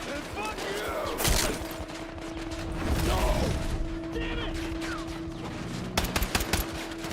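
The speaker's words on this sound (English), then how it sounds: "That's a meaty pistol." Pistol gunfire in the video game Battlefield 6, with a few punchy shots and bursts over a dense battlefield din of distant fire and mechanical clatter, with a voice talking underneath.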